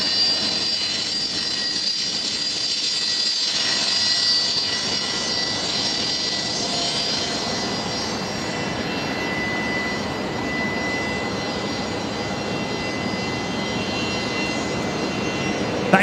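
Aircraft engines, Fokker airliners at Brisbane Airport at night, give a steady, loud broadband roar with a high whine running the whole length, constant and close with no talk over it.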